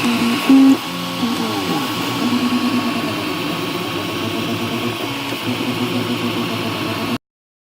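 A Prusa i3 MK2/S desktop 3D printer running, a steady fan whir under a moderately loud hum, with stepper motors giving repeated tonal whines and short buzzing runs before it cuts off.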